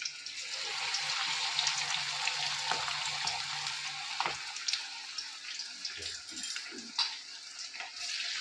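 Manchurian balls sizzling and frying in hot oil in a home kitchen, a steady loud hiss with occasional stirring clinks and bubbling pops throughout.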